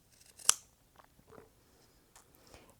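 Scissors snip a small triangular corner off the fabric seam allowance of a reversible Christmas skirt: one sharp close cut, followed by a few faint, scattered snips and handling sounds in a quiet room.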